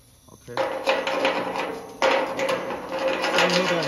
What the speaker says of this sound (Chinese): 这个晚上时间你要这样敲，你会吵到邻居。